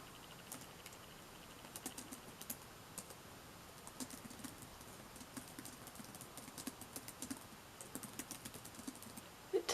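Someone types on a computer keyboard while writing, producing soft, quiet, irregular clicks in short runs and pauses, close by and faint, with no talk.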